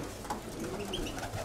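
Voutes pigeons on Santorini coo softly, a few low, rounded calls rising over a quiet outdoor background, faint and somewhat distant.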